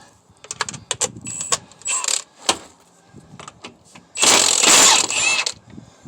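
An impact wrench removes 5/8 hex head bolts from a GM 10-bolt 8.5 rear axle, with several short rattling bursts of hammering followed by a longer, louder burst near the end.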